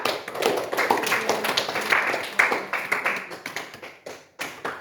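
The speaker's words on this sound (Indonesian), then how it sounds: "Tepuk tangan untuk mereka berdua" A short round of applause from students in a classroom, scattered claps with a brisk uneven rhythm, fairly close and fading out toward the end.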